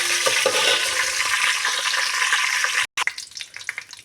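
Curry leaves fry in a pan of hot oil for tomato chutney, giving a loud, steady sizzle up close that cuts out briefly, then returns as scattered spluttering crackles.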